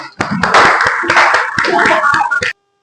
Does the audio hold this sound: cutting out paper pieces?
no